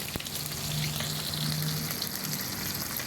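Small fish frying in a pan of hot oil for a morning meal: a steady, close crackling sizzle like light rain, with an occasional louder pop, continuous and unbroken with no voices.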